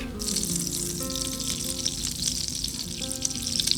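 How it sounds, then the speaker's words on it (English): Butter and bacon fat melting in an old Dutch oven give a steady, close, bright sizzle that holds evenly from start to finish with no voices. "First we're gonna melt 4 tablespoons of butter in our trusty old Dutch oven."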